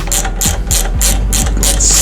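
Ratchet wrench snugging a 17 mm nut on the swingarm of a 2011 second-generation Suzuki Hayabusa, a close, steady run of quick clicking strokes, about seven bursts in two seconds.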